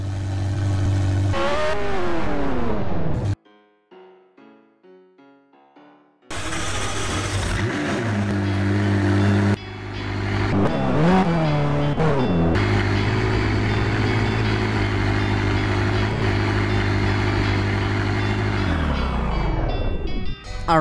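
A McLaren Senna sports car engine roars and revs repeatedly in the Roblox game Pacifico 2, with rising and falling pitch and a brief quieter pause midway.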